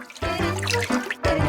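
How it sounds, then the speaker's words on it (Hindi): Water poured or splashed in a cartoonish house-decorating video game, a continuous liquid rush lasting about a second, briefly breaking off before resuming, close and fairly loud. "चलो पानी इस्तेमाल करते हैं।"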